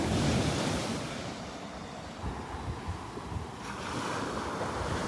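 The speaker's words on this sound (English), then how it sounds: "Some nice little waves breaking. Must be a little sandbar right out here, just offshore." Small ocean waves break over a shallow sandbar just offshore of a North Naples, Florida beach, with a broad rushing wash swelling and easing alongside gusty wind noise on the microphone, and no voices.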